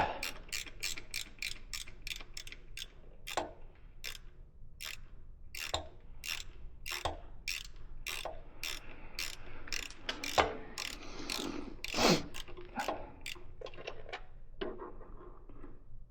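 A hand ratchet clicks in quick bursts while removing bolts from a Honda CB650R motorcycle, its sharp close ticks coming in rapid runs and separate strokes, with small mechanical clanks in between.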